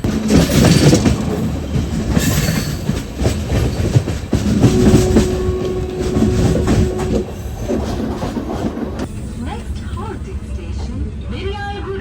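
An Amrit Bharat Express push-pull train rolls along the rails on the Hyderabad to Kerala route, a loud continuous rumble with rhythmic clatter heard from aboard, as people talk over it.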